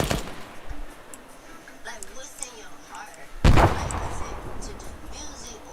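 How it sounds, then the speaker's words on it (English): A grenade detonates in Arma 3 during squad training, one heavy blast that booms loudly and then rumbles away, following a sharp crack at the start, with game ambience and faint voices underneath. "I gotta throw some grenades in this"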